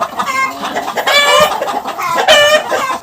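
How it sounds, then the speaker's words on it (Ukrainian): Several hens cluck and squawk loudly and close by, overlapping in agitated bursts as they squabble, with no talking. "Кури, ну не сваріться"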